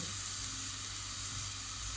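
Oil sizzles steadily in a pot on the stove with a constant hissing crackle, close and even throughout, while making carrot chicken soup.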